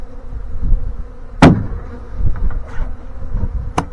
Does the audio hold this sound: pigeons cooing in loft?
no